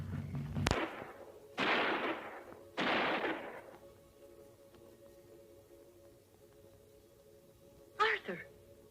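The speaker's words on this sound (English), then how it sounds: "Those were gunshots." Gunshots in a 1974 film: three sharp, loud reports spaced about a second apart, each trailing into a short echoing decay over a low hum, followed later by a brief clatter of another sound.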